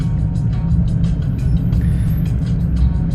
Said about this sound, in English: We're just going to give it some light throttle.